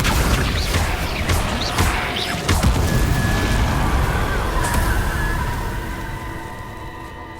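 Confringo blasting spell explosion in the video game Hogwarts Legacy: loud crashing bursts and impacts amid combat clatter, fading into a lingering rumble and ringing tones.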